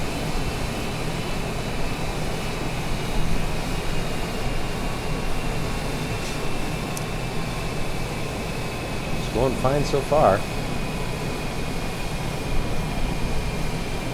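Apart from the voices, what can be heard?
small airplane in flight, cabin engine noise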